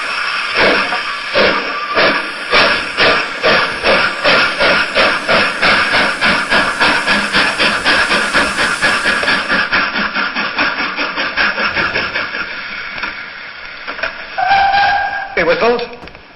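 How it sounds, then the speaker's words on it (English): A steam engine chuffs away in a rhythmic train of sharp puffs that slowly drift apart, loud and close, with a steady hiss and a short whistle-like sound near the end. "Then the driver pulled the lever and Edward puffed away."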